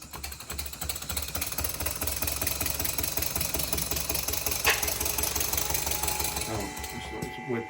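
A model steam engine runs on a Stuart 501 boiler fitted with a hand pump, giving a steady, fast mechanical chuffing and clatter throughout that is close and fairly loud.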